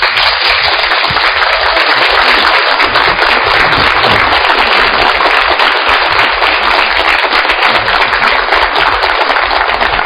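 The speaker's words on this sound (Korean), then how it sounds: "큰 박수로 맞아주시기 바랍니다." A large audience at a lecture on wealth gives continuous, loud, dense applause to welcome an economics journalist taking the stage, a thick unbroken wash of clapping like heavy rain.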